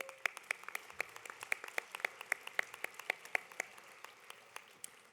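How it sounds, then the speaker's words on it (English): Scattered, sparse clapping from a small audience at a senior awards event, individual claps spaced out rather than a dense roar, fairly faint and distant throughout. "Round of applause, please."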